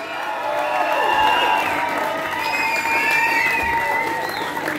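A crowd at a music tribute evening applauds steadily while scattered cheers and whoops ring out above the clapping, a full-room response held at a consistent loud level for several seconds.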